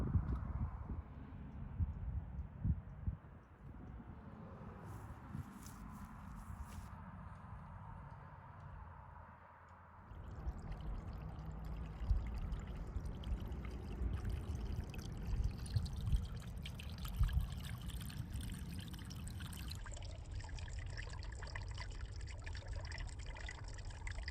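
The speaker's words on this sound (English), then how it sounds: "there is water flowing through my French drain" Water runs through a French drain catching runoff from a mountainside, a continuous trickling and gurgling flow that shifts in tone as it goes, heard up close with no talking.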